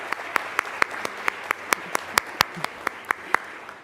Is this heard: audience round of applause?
yes